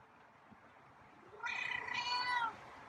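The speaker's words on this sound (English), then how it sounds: "Oh, that's an interesting meow." A single drawn-out meow from a feral cat, fairly close and clear, rising and wavering for about a second against a quiet room.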